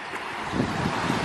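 Running water of a river flowing through thick woodland, a steady broadband rush with no pauses, close and fairly loud throughout.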